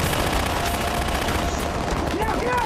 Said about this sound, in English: We return fire.